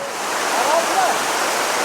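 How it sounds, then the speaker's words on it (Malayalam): Vasudhara waterfall, water pouring down in a broad, steady roar close at hand, with a voice faintly present. "നമുക്ക് നോക്കാം വെള്ളം വീഴുവാണ്"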